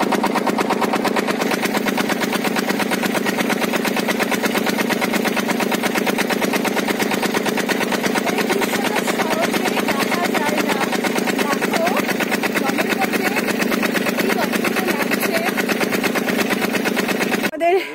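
A boat's engine runs steadily during a river ride near the confluence of two rivers at Mukutmanipur, a loud, even, rapid mechanical chug that continues throughout with no break.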